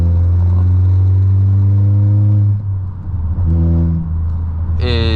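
A Unitronic-tuned VW MK8 GTI pulls hard with a loud, droning engine note that climbs, eases off briefly mid-clip, then picks up again with a rising whine near the end.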